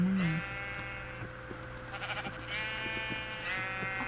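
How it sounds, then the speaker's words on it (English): Sheep bleating inside a video game: one clear bleat at the start, then quieter harmonic bleats return around the middle and toward the end over a constant low hum. "And I can hear sheep, which is good."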